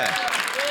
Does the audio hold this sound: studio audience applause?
yes